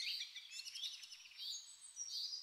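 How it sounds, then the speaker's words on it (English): Faint high-pitched chirps and twitters from several birds, blended into a steady airy background, sounding far off. "You hear the distant chirping of the birds."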